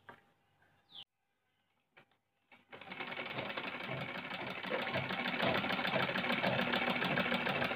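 A home sewing machine stitches a seam along cloth, a steady close mechanical whirr and rapid clatter running continuously after a few brief clicks and handling knocks at the start.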